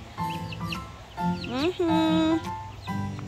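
Chickens in a coop cluck in short bursts with some drawn-out, squawking calls, close by, while a person talks over them.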